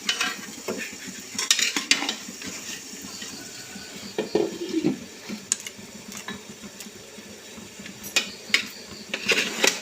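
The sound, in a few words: marvai pundi dumplings being mixed into masala in pan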